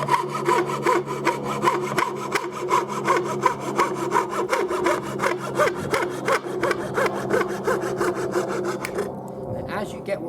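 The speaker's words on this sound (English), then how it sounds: "As you're sawing, just roll your wrist nice and gradually to follow that line." Rapid, rhythmic rasping strokes of a hand saw cutting through wood, close and loud, steady back-and-forth until it stops near the end.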